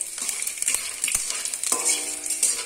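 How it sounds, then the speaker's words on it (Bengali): Raw peanuts frying and being stirred in a wok for veg chili chowmein, with light sizzling under scraping and clinking of a spatula against the metal, close and steady, no voices. "একটু কাঁচা বাদাম কড়াইয়ে ভেজে নিতে হবে"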